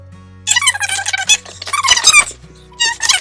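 A FabFitFun Spring 2021 subscription box is opened, giving a run of high, squeaky packaging sounds in quick irregular bursts, close and fairly loud, with a short pause before a final squeak.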